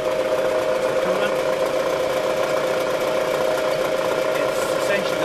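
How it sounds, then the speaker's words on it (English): A milling machine drills a side port hole in a fixture with coolant, giving a steady mid-pitched machine hum and grinding with faint irregular pecking scrapes, running continuously under some background talk. "We're going to kind of peck away at the hole, feeling when the hole is complete."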